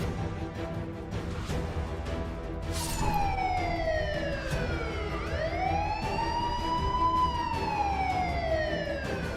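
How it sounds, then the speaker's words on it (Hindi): A police siren wails with rising and falling tones, sweeping up and down loudly over steady traffic rumble, during a police encounter operation in Shikohabad, Uttar Pradesh. "शिकोहाबाद में पुलिस हूटर का सायरन सुनाई देने लगा।"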